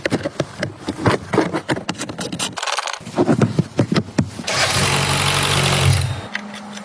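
A cold Mercedes GLK engine cranks and catches, with clattering mechanical noise followed by a steady, loud rushing idle that settles and drops off near the end.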